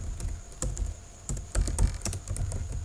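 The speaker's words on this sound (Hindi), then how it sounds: "अब हमने कंट्रोल बी का बटन प्रेस किया" Close keystrokes on a computer keyboard at a point-of-sale setup, a quick irregular run of sharp clicks and taps with brief pauses, no voices.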